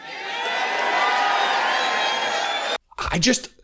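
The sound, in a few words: crowd cheering at a rally speech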